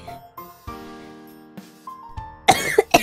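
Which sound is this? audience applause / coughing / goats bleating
coughing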